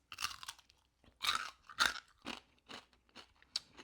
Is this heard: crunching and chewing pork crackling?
yes